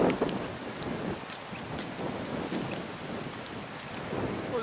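Gusty wind buffets the microphone at a beach resort in Marsa Alam, Egypt, a rough, blustery rush with irregular thumps and swells, close and fairly loud, with no voices.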